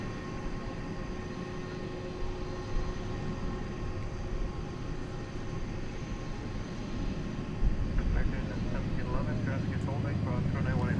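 A jet airliner rumbles at night at Dallas Fort Worth airport, a steady low roar that swells near the end, while a person talks throughout.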